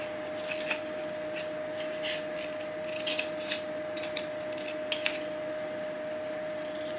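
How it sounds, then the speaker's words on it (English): Scissors snip through upcycled material to cut out bluebell shapes, a series of soft, crisp cutting clicks and rustles over a steady background hum and tone. "We're now going to cut this to make bluebell shapes"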